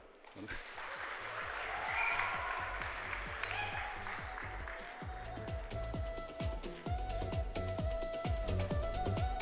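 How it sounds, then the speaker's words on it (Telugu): Loud, sustained applause from a film event audience, with dense rapid clapping that continues steadily throughout, under crowd noise. "ఎవరో తప్పట్లు కొట్టండి"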